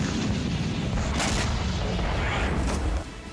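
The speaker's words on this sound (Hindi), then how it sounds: "जोरदार धमाके हो रहे थे।" Loud booming blasts and heavy rumbling during a US military attack on Caracas, Venezuela, recorded from a distance, with dense continuous low rumble and a few sharper bursts standing out.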